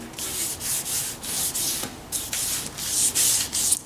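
Wadded cloth rubbed back and forth over a car body to wipe off Bondo dust, a series of hissing, brushing strokes in a steady rhythm, close and moderately loud with no talk.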